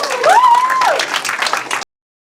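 A short burst of audience applause and cheering at a real estate auction, with a rising whistle or whoop over the clapping before it stops suddenly.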